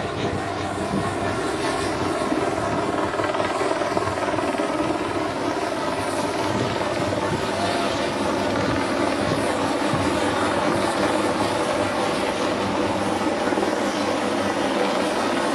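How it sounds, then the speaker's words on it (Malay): Loud, steady whirring and beating of a police helicopter overhead during an immigration raid in Malaysia, continuous throughout with no pauses and no other sounds standing out. "Dan kelihatan helikopter polis juga beredar di kawasan ini."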